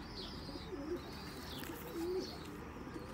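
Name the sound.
Ferozpuri pigeon cooing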